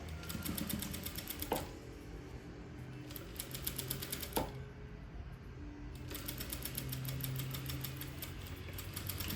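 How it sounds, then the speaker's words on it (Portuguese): A domestic sewing machine runs a 1 cm seam along a curved dress neckline, giving a steady fast needle patter with brief pauses and a couple of sharp clicks. "sigo fazendo a costura de 1 centímetro, respeitando a curvatura do decote"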